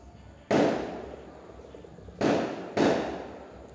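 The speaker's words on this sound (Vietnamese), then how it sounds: "Có tiếng pháo các bạn" Firecrackers go off outside in three sharp, loud bangs, one alone and then two close together, each trailing into a brief crackling decay over quiet background hiss.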